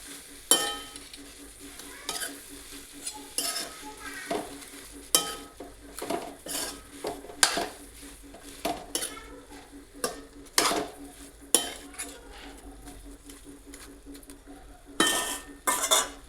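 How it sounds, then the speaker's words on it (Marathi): A spoon stirs a cauliflower vegetable mixture in a metal kadai, making repeated scraping and clanking strokes over a faint sizzle, each stroke rising sharply and then settling, with no talking. "सगळे मिक्स करून घ्यायचे पहिले कढईमध्ये"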